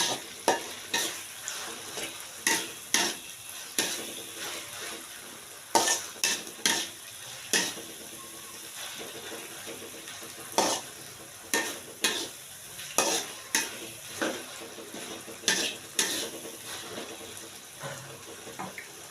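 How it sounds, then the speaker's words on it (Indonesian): Peanuts and shrimp being stir-fried in a pan, with repeated scraping spatula strokes in an irregular rhythm over a steady low sizzle, fairly quiet and close, with no talking. "Kita goreng sampai matang dulu ya."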